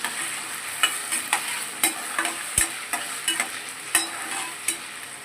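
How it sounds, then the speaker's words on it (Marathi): Potatoes fry in hot oil for Satara-style sabudana khichdi, a steady close sizzle broken by regular scraping stirs of a spatula against the pan, about two per second. "हे तेलामध्ये आता फ्राय होत आहे"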